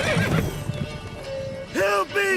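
Roach the horse whinnies in The Witcher 3, a short harmonic neigh rising near the end after a stretch of game ambience and faint talk-like sounds.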